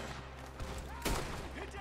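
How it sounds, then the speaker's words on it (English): Gunfire in Red Dead Redemption II comes as one sharp, loud shot burst among scattered softer reports over a low rumbling game backdrop. "Why are we shooting down there for?"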